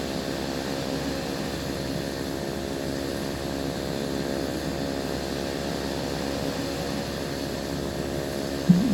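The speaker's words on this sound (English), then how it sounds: "And now we get the other engine." Piston-engine Beechcraft Duke in a flight simulator drones steadily with a propeller hum as its second engine runs up, a constant layered engine tone with no talking and a small click at the very end.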